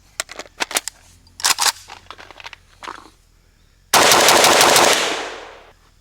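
Krebs Custom M23 rifle in 7.62x39 fires a few scattered single shots, then a long, loud, sustained burst of rapid automatic fire that tails off over about two seconds.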